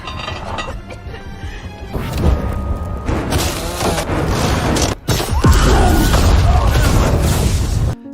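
A loud, sustained blast with heavy low-end rumble and crashing debris, roaring continuously for several seconds with a brief dropout midway.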